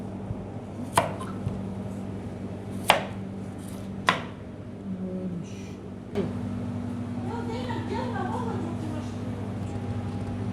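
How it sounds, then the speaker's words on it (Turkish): A knife chops squash for pickling on a cutting board in four sharp, widely spaced strokes, followed by quieter kitchen rustling over a steady low hum. "keleklerimizi güzelce doğradık"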